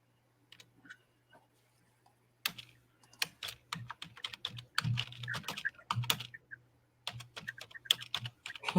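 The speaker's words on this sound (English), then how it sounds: "The crackling sound is probably either Dave typing or that's actually coming from me" Dave typing on a computer keyboard, quiet at first with a few scattered taps, then a busy run of rapid clicky keystrokes over a faint steady hum.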